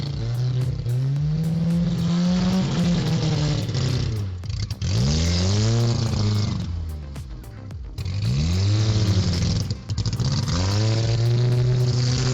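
A red car drives past and revs hard, its engine pitch climbing and falling in repeated loud sweeps, with brief dips between bursts.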